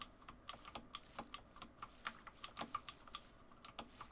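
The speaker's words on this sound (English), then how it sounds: "typing." Computer keyboard keys clatter in a steady stream of quick, light clicks during a Minecraft gaming session, soft and close with small pauses between bursts and no voices.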